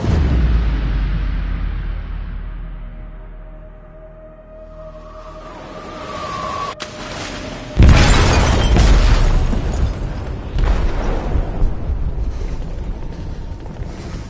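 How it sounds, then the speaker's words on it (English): A bomb goes off in a ship's hold in Detroit: Become Human, a loud low boom that swells from a quieter rumbling buildup and hits hard midway, followed by sustained roaring debris and rumble. "They detonated an explosive in the hold."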